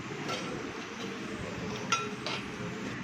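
Shrimp roast with coconut milk stirred in a pan, a steady scraping and sloshing with a couple of metallic clinks of the spoon, close and continuous.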